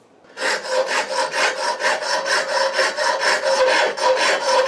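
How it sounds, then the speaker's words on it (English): A steel file rasps in steady back-and-forth strokes across a rifle trigger guard for a .375 H&H Magnum build, rounding its edges, with about a dozen even, close, loud passes and no talk. "Right in that area is where I need to file down a little more."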